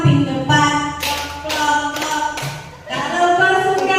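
A group sings a children's action song and claps along in time, with sharp, loud hand claps landing at a steady beat of about two per second beneath the singing voices.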